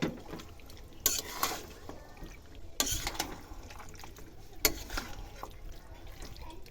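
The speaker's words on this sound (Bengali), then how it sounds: "এবার আমি নেড়ে দিচ্ছি।" Mutton with chili and cumin powder is stirred in a pot, a spoon scraping and knocking against metal with three distinct clanks amid soft bubbling and faint background noise.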